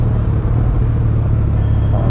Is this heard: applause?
no